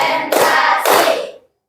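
A class of pupils claps together in a math chant game, two loud, sharp group claps close together, the second ringing out briefly before silence.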